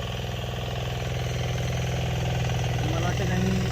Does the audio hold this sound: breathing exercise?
no